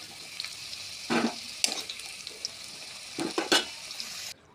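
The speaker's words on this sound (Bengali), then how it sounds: "এখন হালকা করে আলু ভেজে নেব।" Potato pieces fry in oil with a steady, moderate sizzle, broken by a few louder bursts of stirring or turning. No one talks.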